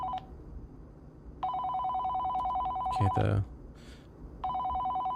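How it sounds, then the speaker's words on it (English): Telephone ringing in a scary itch.io video game: a bright electronic ring repeating in long bursts with pauses between, while someone briefly speaks in the middle. "it's like the phone is ringing"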